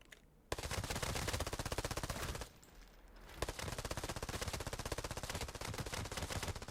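Vector submachine gun firing full-auto with 9mm rounds in the Arena Breakout Infinite video game: a long, rapid burst of crisp shots, a short pause, then a second sustained burst.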